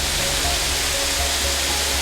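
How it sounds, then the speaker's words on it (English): A magnificent waterfall in Pine Creek Valley pours with a continuous, dense broadband roar, loud and close, steady without pauses or voices over it. "This is one magnificent waterfall."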